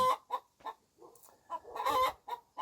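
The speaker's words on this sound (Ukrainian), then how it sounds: "Ну, курка, ну іди, давай, потім." A chicken clucks in a short run of separate calls, close by and fairly loud, with brief quiet gaps between them.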